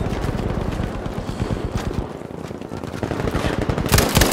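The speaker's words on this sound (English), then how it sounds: "This Lewis gun is crazy." A Lewis gun firing in Battlefield 5 multiplayer, loud, fast and steady automatic bursts of closely spaced shots with a short lull midway before the firing picks up again, close at hand.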